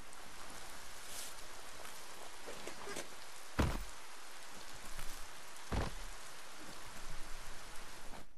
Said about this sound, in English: Too bad there's no boat floating by with this rain.